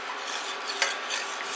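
Borax being stirred into water in a container, a soft continuous scraping and swishing rasp with one brief clink, close by and with no speech.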